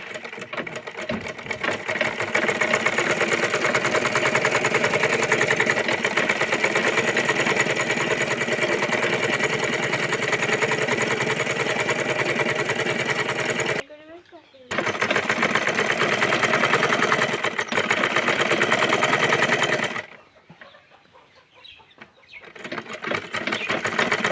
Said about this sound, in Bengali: গোল জামা সেলাই শুরু করে দিচ্ছি। প্রথমে এই যে গলার পট্টি সেলাই করে নেব।